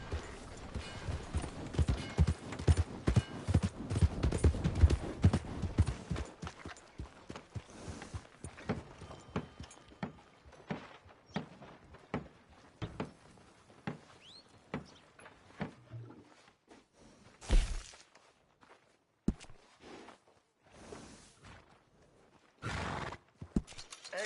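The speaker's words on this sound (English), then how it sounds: "Remember to rest that horse sometimes." A horse in Red Dead Redemption 2 gallops with rapid, rhythmic clip-clop hoofbeats that gradually slow to scattered steps, with a couple of louder thuds and a snort or whinny along the way.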